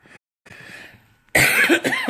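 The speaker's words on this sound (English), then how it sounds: "sorry, forgive me for coughing" A brief cough, a pause, then a few quieter breathy coughs followed by a loud, harsh double cough close by.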